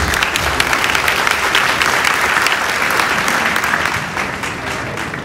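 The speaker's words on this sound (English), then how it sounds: "can we have a round of applause for the panelists?" Loud, close applause from a summit audience for a panel, many hands clapping densely and steadily before easing slightly near the end.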